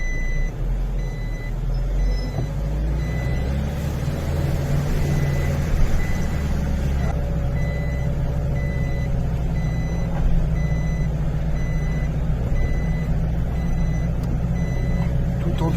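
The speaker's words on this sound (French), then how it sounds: "je vais mettre la ceinture, ça m'énerve à biper" Car seatbelt warning chime on a mountain track, a steady repeating beep pattern sounding over the low rumble of the engine.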